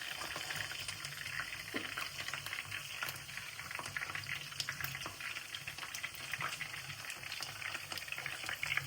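Chilly chicken fries in hot oil, giving a steady, dense crackling sizzle that stays faint and even throughout.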